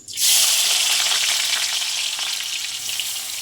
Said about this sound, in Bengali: আমি ভালো করে একটু ভেজে নেব।